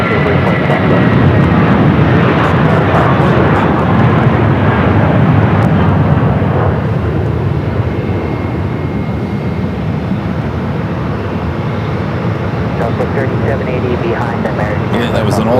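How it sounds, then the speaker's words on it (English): Jet engines of an old America West Airbus A320 give a loud, continuous roar, close and powerful, fading slightly toward the end, with talk underneath. "that was an old America West A320"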